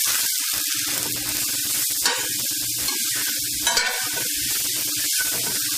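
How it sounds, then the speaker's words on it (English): Shiitake mushrooms that are browning sizzle steadily in a hot pan while being stirred, with close, repeated scraping and clattering strokes over the constant hiss of frying and no talk. "I'm just going to give them a little bit of a stir now that I see that they're browning."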